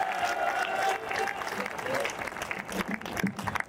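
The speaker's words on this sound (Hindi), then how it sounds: "इस बच्चे के लिए एक बार और जोरदार तालियां बजाकर स्वागत करिए" An audience at a Hindi kavi sammelan poetry recital applauds a young poet, with a continuous wash of clapping mixed with crowd voices and some speech.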